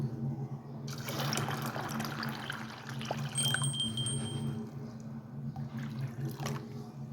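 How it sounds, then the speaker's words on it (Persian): Water pours into a pot of soaked beans, a continuous splashing and gurgling flow that runs for several seconds close by, with a steady low hum beneath it. "حالا این لوبیا رو که از چند ساعت قبل خیس کردم و میریزم توی یه قابلمه و البته باید کم دیگه بهش آب اضافه کنم."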